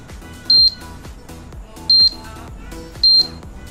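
Three short, sharp electronic alarm beeps from a Daiwa Seaborg 500MT electric fishing reel ring out at even intervals, loud and close, with faint clicking in between.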